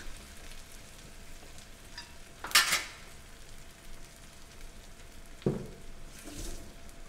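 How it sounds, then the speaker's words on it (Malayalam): Spoon stirring a boiling beef curry in a pot: a couple of brief scraping, clattering stirs over a steady bubbling simmer, close and moderately loud. "വാവ് തളച്ചു പൊന്തുന്ന ബീഫ് കറി വീണ്ടും ഇളക്കി മറിക്കുന്ന ദീപക്"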